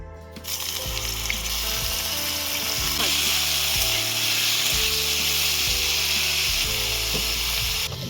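Parboiled broccoli sizzles in hot oil in a pan, a close, steady frying hiss running under a repeating mechanical clicking hum that stays loud for the whole stretch.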